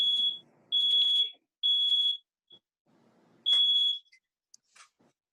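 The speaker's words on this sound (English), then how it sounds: "Do you hear that? Yes, it's like alarm." A household smoke alarm going off: loud, piercing high beeps in four long bursts with gaps between them, followed by a few faint clicks and knocks.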